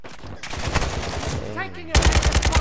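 Automatic weapon fire in Call of Duty: Modern Warfare II, rapid loud bursts rattling in quick succession, a pause with a shout underneath, then a heavier close burst.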